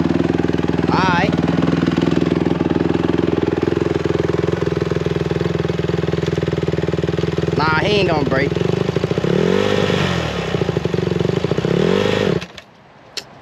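Brand-new dirt bike engine runs close and loud with a rapid, buzzing idle, climbing into sharp revs a few times before cutting off abruptly near the end, while people talk over it.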